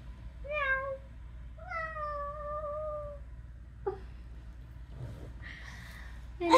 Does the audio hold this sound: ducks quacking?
no